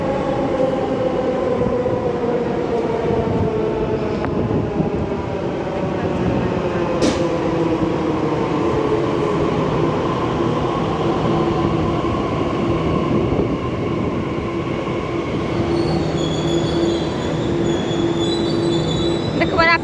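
A Delhi Metro train runs steadily throughout with a continuous rumble, rising wheel and motor whine, and a faint squeal toward the end; no clear talk over it.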